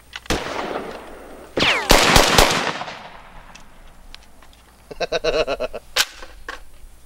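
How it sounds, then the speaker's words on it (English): An FG-42 rifle fires outdoors in short, sharp bursts, loud close cracks in quick strings with reverberant tails and a pause between volleys, and no one speaks. "I'm going to shoot some more of it."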